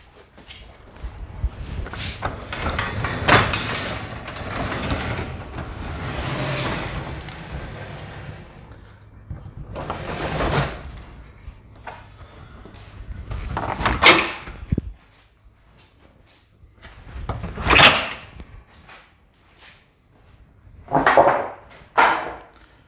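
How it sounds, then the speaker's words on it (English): A wooden garage door is pulled closed and latched, with a long stretch of rolling rumble and creaks, then several separate knocks and clunks, close by, with no talking. "So we're going to go ahead and go over it and close it."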